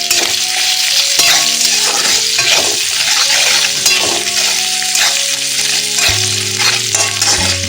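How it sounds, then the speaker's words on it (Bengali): Onions fry in a pan for a Bengali jackfruit curry, a loud steady sizzle running throughout with scraping stirring strokes and a few clinks of the spoon against the pan, no talking. "এদিকে পেঁয়াজ ভাজা হয়েছে থাক"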